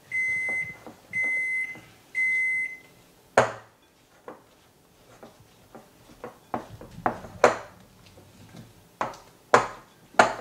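Kitchen oven beeping three times to signal it has preheated, steady evenly spaced electronic tones, followed by clanks and knocks of pans and utensils as dough for pretzels is prepared.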